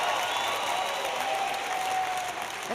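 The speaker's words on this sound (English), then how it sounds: "Get the crowd going" Crowd at a US Open tennis match applauding steadily, a broad sustained clatter of clapping that fills the whole stretch at even loudness.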